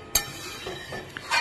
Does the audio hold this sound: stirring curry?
yes